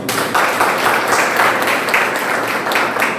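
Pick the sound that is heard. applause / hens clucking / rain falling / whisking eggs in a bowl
applause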